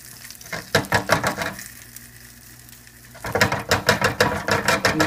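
A buffalo bleu cheese steak burger deep frying in hot oil makes a loud, bubbling sizzle with rhythmic clattering bursts, easing briefly before swelling again, close up and with no voices.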